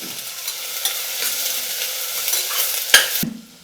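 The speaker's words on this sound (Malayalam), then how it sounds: "ഇതിലേക്ക് ആവശ്യത്തിനുള്ള ഉപ്പ് ചേർത്തിട്ട് നന്നായിട്ടൊന്ന് വഴറ്റിയെടുക്കാം." Onions with salt sizzle loudly in a pan as they are sautéed, a dense frying hiss with stirring scrapes throughout, ending in a couple of sharp spoon knocks before the sound cuts off.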